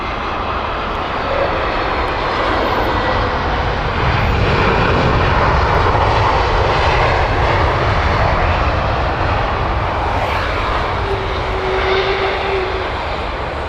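Airliner engine at Heathrow Airport, a loud sustained roar close by that holds steady throughout with a slow swell, no voices.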